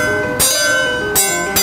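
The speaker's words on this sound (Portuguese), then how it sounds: "Tem que tocar como um sino. Quanto mais próximo de um sino, melhor é o aço da faca." A steel kitchen knife blade rings like a bell when struck, three times. Each strike is loud and close, and its bright metallic tone lingers and sustains between strikes.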